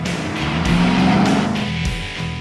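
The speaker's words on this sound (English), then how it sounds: "I'm driving the 2014 Mercedes-Benz SLK 55 AMG" A 2014 Mercedes-Benz SLK 55 AMG with a 5.5-liter naturally aspirated V8 drives with the roof down on a hot day, its engine loud and close, rising and falling through several gear changes.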